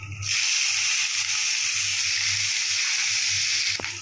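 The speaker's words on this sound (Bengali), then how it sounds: "এবারে এই সব পেঁয়াজটা ভাজা ভাজা হয়ে গেছে" Chopped onion sizzling and frying in hot oil with bay leaf, cumin and dried chilli, a steady bright hiss with a faint low hum underneath, ending in a short clink.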